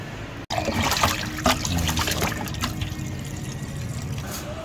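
Running water splashes and trickles steadily as food is rinsed under it, with faint handling noises.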